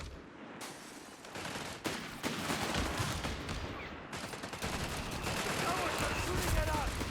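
Sustained battlefield gunfire in the World War II strategy game Company of Heroes 3, overlapping machine-gun bursts and rifle shots with distant heavy thuds, steady and continuous throughout, with brief game voice lines.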